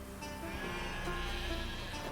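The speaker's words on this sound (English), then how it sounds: "What are you doing with these sheep and this giant dog?" Sheep bleat in The Witcher video game, a drawn-out bleating that carries over a steady, dense ambient game soundscape.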